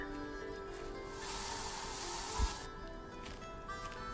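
A spray hisses in the post-apocalyptic video game I Am Future, a soft, breathy burst of a second or so over a quiet backdrop, with a faint thump partway through.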